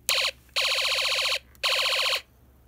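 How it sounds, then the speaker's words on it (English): A Snap Circuits arcade kit speaker sounds an electronic siren in three bursts, one short and then two longer, each a rapidly warbling, buzzy tone. The bursts are loud and close, with brief silence between them and no talk. "The display, the speaker, will produce a siren sound."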